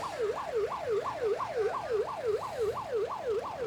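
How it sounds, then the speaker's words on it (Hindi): Police siren at a farmers' tractor rally on a city road, wailing in a steady rising-and-falling cycle about every third of a second, loud and continuous with faint traffic beneath and no talk. "सायरन भी बजाया हुआ है, सायरन भी लगाया हुआ है, पुलिस सायरन भी है"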